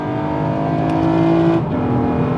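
A Honda Legend KB1 VTEC engine runs up close and loud with a steady, droning tone that drops away briefly past the midpoint before settling again.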